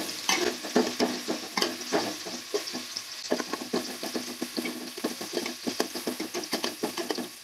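Onions frying for a special chicken biryani, a steady sizzle in the pan with frequent scraping stirs and clinks throughout, close and fairly loud, no voices.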